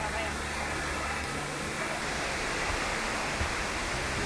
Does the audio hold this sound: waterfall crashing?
yes